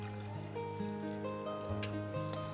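Water is poured into a cooking pot in a steady, continuous trickle, with the pitch of the filling rising gradually as the pot fills, heard close by in a kitchen.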